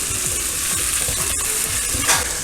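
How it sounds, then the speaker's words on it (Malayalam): Onion and potato stir-fried in a pan for a Trivandrum-style vada koottukari, a continuous hiss of sizzling oil with repeated scraping stirs, close and loud, no talking. "രണ്ടും ഇട്ട് നന്നായിട്ടൊന്ന് ഒരു 5 മിനിറ്റ് ഇങ്ങനെ ഇളക്കി കൊടുക്കുക കേട്ടോ"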